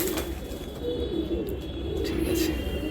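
Pigeons coo steadily at close range inside a loft, with a low burbling drone running through the clip and soft rustling above it; among the birds are black-faced, white-bodied pigeons with banded tails.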